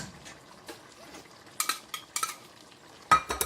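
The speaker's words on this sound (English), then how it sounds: "Give it a stir." Mutton with swede, methi and chilli is stirred in a pan, giving soft scraping and sizzle with a few sharp, close utensil scrapes and clatters over a quiet background.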